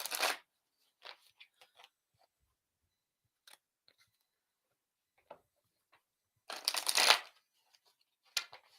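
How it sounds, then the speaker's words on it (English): Tarot cards being shuffled and pulled, with a crisp riffle at the start, scattered soft flicks and slides, a longer riffling shuffle near the end and a final snap, all close and quiet with no talk. "I'm going to pull you a card, or probably more than one card."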